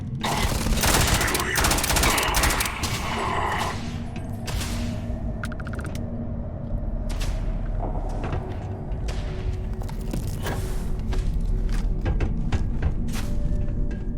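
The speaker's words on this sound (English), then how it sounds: "Opening fire." Sustained automatic gunfire from a Starfield firefight rattles loudly and continuously, with bursts of rapid shots, mechanical clatter and thuds layered over a dense, noisy battle background.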